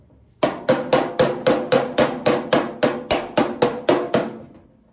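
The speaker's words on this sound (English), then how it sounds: "if you got access, why not just hammer it out?" Steel hammer striking a 1968 Dodge Charger fender backed by a dolly, thirteen evenly spaced ringing metallic blows in a steady rhythm, close and loud, each with a short decaying ring, no talking.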